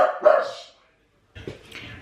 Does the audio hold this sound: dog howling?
yes